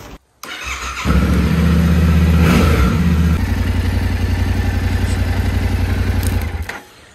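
A newly bought motorcycle's engine starts and idles with a steady, loud, close rumble, its pitch shifting partway through before the sound fades at the end.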